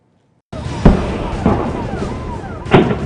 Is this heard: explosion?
yes